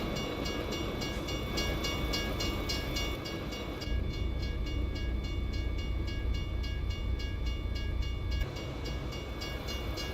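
A tram rolls past in the TruckersMP truck driving game, a steady mechanical rumble with rail clatter that holds at a fairly constant level for the whole stretch and shifts slightly partway through.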